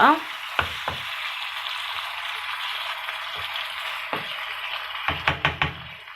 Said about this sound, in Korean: 자, 이렇게 고기를 먼저 볶을게요.